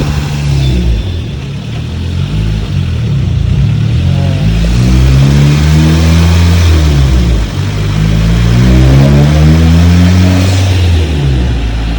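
A turbocharged Honda Civic engine, a 2006–2011 model, revs hard on a dyno, with loud engine harmonics climbing and falling through two long pulls and no voices.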